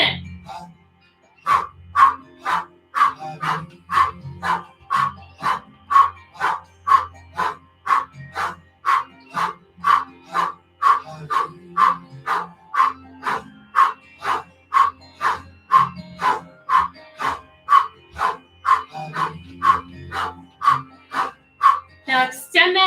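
Rapid breath of fire panting during a Kundalini yoga session, with quick, evenly spaced breaths at about two per second. The steady, close rhythm continues for the whole stretch.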